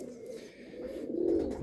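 Pigeons coo low and steady in a breeding loft, a soft continuous murmur that swells slightly toward the end against a dull room hum.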